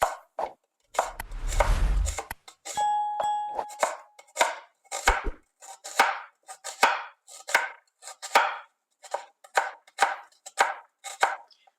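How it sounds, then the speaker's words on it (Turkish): A knife julienne-slices an onion on a cutting board, about a dozen crisp, evenly spaced cuts close up, after a brief rustle at the start. "Şimdi bir adet kuru soğanımızı jülyen bir şekilde doğruyoruz."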